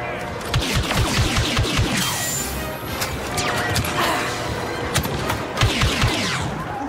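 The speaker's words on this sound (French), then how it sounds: "Quelqu'un nous tire dessus dans le dos" Rapid bursts of blaster-style gunfire from Star Wars Battlefront II crackle in dense, repeated volleys, loud and close, with a few heavier impacts scattered throughout and occasional faint speech.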